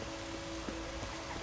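Steady rainfall in the video game Witcher 3 Wild Hunt, a soft, even hiss of falling water with faint scattered patter, continuous and fairly quiet throughout.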